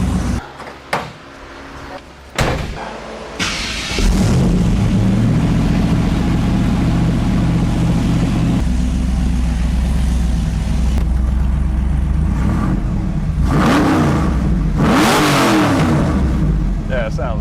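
An LS-swapped 1981 Pontiac Trans Am with chambered exhaust rumbles loudly at close range, its engine revving in repeated rising bursts over a steady deep idle, with a few clunks at the start and people talking over it.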